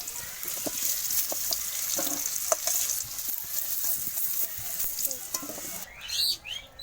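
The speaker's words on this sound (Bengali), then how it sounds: "আলুগুলো একটু ভালো করে ভেজে নেব।" Potatoes seasoned with salt and turmeric fry in hot oil for a mutton curry, a steady close sizzle broken by occasional stirring scrapes, with a brief clatter at the end.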